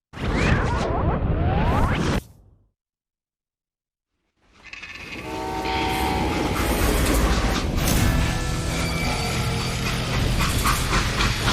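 Freight train in the western shooter Call of Juarez: Gunslinger, first a loud rumbling whoosh, then a moment of silence, then a sustained rolling clatter of wheels with metallic squeals and clicks, no voices.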